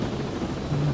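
A helicopter in the video game Ghost Recon Breakpoint gives a brief, steady low rotor and engine drone, heard alone.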